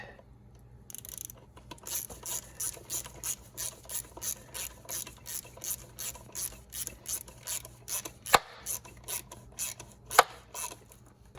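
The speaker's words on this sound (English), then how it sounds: "So I tighten these all up, and you can see I used a smaller ratchet." Small ratchet tightening thermostat housing bolts on a Ford Explorer, a close, steady series of rasping clicks in even strokes with a couple of sharp metallic knocks.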